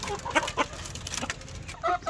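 Chickens cluck in short scattered bursts while pecking at papaya leaves, close by, with a few louder calls standing out against a steady low background.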